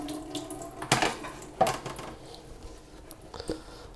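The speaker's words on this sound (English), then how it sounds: "So what I do is I just drain the water through this to catch all the CDC feathers." Water being drained through a strainer to catch dyed CDC feathers, heard as faint splashing and trickling with a few short, sharp pours and clatters, quiet and close, no talking.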